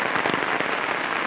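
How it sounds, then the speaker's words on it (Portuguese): Heavy rain falls steadily outdoors near flowering pitaya plants in Brazil, a dense, even hiss of drops close by with no talk over it. "Chovendo bastante."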